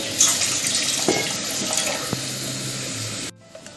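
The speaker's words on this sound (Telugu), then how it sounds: "రెండు కప్పులు వాటర్ తీసుకుంటున్నాను" Water pouring steadily into a vessel of flour for modak dough, a continuous splashing stream with a few clinks, stopping abruptly near the end.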